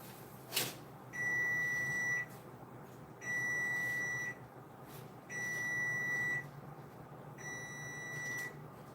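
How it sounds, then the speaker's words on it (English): Electronic beeper marking the end of cooking time on a cooking show: four sustained, evenly spaced tonal beeps, each about a second long, sounding loud and clear over a quiet room. "So you heard that beep."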